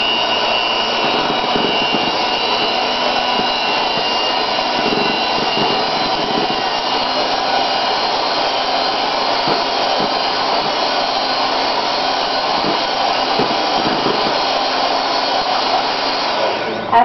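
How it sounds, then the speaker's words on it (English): An electric mixer runs on its lowest speed, a steady close whirring motor hum that holds constant and unbroken for the full stretch of time. "plug in your mixer and place it on the lowest setting on your mixer at the top for 30 seconds and mix"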